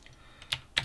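Typing on a PC computer keyboard produces a few quiet, close key clicks spaced irregularly, two of them sharper taps, in a quiet room.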